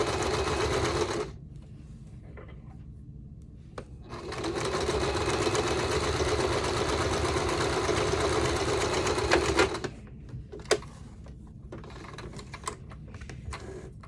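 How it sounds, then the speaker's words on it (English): A sewing machine stitches fabric for a face mask with a fast, steady whirring patter in two long runs, broken by quiet pauses and a few clicks as the work is adjusted. "I'm just going to sew it"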